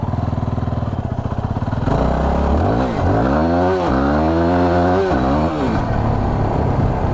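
A Yamaha WR250R motorcycle ridden on road tyres, its engine note climbing and dropping as the revs rise through gear changes, close and steady throughout, with no talking.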